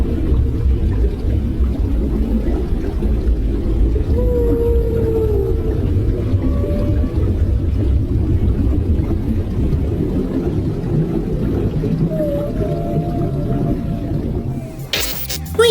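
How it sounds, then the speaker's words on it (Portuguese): A whale and its calf call underwater, with rising and falling tonal moans and whistles drifting over a steady low rumble of water and ambient noise, continuous and fairly loud throughout. "Escute agora os incríveis sons emitidos por uma baleia e sua cria."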